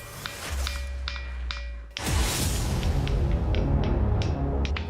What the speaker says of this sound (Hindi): और ये है ठिनठिनी पत्थर की आवाज।